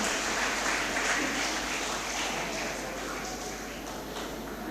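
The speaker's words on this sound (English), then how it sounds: "Give a big round of applause," Steady broadband clapping from a ceremony audience at a school festival, moderately loud and continuous throughout, with a low hum beneath and speech mixed in.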